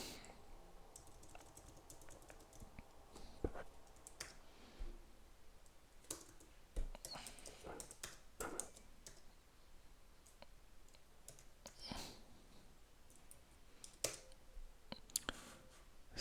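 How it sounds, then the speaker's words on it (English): Typing on a computer keyboard, a steady run of soft, close key taps and clicks with irregular rhythm and brief pauses, heard alone without talk. "let me type"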